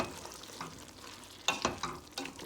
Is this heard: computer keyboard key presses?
no